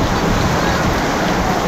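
Steady, dense hiss of rain falling, a continuous wash of sound with no breaks and no voices.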